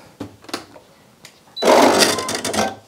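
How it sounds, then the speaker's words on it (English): Sewing machine stitching the bodice of a McCall's 7900 top, a short loud burst of fast continuous whirring stitching after a few quiet clicks and handling sounds. "I'm just gonna go ahead and stitch the bodice on for now."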